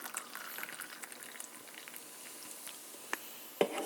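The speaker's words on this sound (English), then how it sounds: "you open up this can of Coca Cola and you pour it into this cup" Coca-Cola fizzes and crackles softly as it's poured from a can into a cup, a close bubbling hiss with small pops and a couple of sharper clinks near the end.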